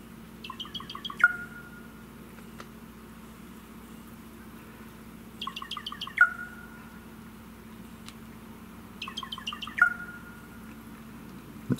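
A crow perched on a branch imitates a wild turkey, giving three widely spaced gobbling call bursts, each a quick rattling series ending in a clear note, over faint outdoor background hum.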